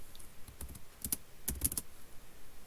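Quick bursts of typing on a computer keyboard, a few scattered clicks followed by two tight clusters of keystrokes, close and fairly quiet in an otherwise silent room.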